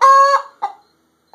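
Pet bird imitating a chicken, with a loud, drawn-out 'bwock' cluck, then a shorter cluck and a faint final one after a pause, close to the microphone.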